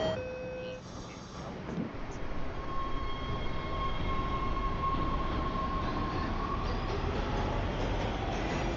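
Subway train running in a video game, a steady loud rumble of rolling wheels and motor with a brief thump near the start and a faint whine riding along, continuing throughout the clip.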